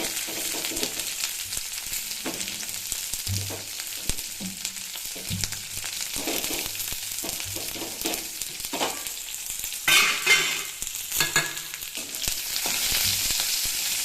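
Onions, green chillies and curry leaves sizzle in hot oil in a pan, a steady crackling fry broken by scraping stirs and a louder burst of spattering partway through.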